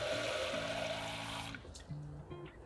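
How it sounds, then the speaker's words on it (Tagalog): Water pours steadily into a pot of dark brown sugar for sago syrup, a broad rushing stream for about a second and a half, then stops, leaving faint trickles and low background hum. "just add 2 cups of water"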